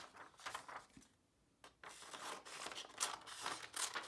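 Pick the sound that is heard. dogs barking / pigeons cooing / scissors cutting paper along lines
scissors cutting paper along lines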